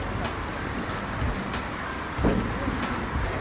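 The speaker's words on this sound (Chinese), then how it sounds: "现在下雨了" Rain falls steadily outdoors at a fishing spot, a continuous broadband hiss with scattered drop taps and a few louder splashes, heard alone without talk.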